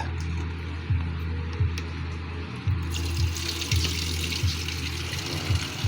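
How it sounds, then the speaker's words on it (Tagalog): Water pours and splashes steadily into a pot for boiling sibukaw tea, with a rhythmic low thumping beneath and a brighter rush of flow starting midway, close and alone. "Lagyan natin ng tubig."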